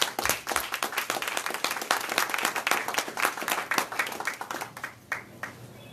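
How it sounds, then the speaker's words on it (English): An audience at a business talk breaks into a round of applause, dense overlapping claps close up and fairly loud, thinning and fading out toward the end. "So give them a round of applause."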